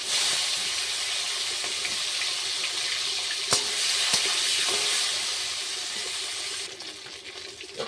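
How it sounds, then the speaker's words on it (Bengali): Fish frying in hot oil in a pan, a steady bright hiss and sizzle throughout, with a few sharp pops and crackles and no talking. "তেলটা গরম হয়ে গেছে, এবার আমি মাছগুলো দিয়ে ভেজে নেব"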